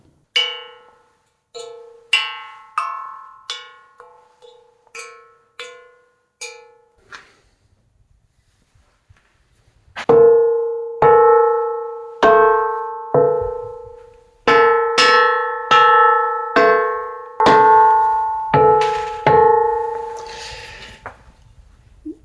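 A sculptor strikes a block of stone to test its sound, producing ringing, bell-like tones in repeated evenly spaced strikes that each decay slowly, the later ones louder and fuller.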